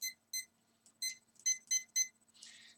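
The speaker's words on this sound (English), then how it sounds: "I'm going to set my timer" A digital timer beeps at a home music setup, with a quick series of sharp, high, evenly spaced electronic beeps that are clear and alone with no talk.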